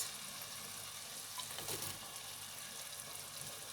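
Meat browns in a pan as it is stirred, a soft, faint, even sizzle with one brief scrape partway through, no voices over it.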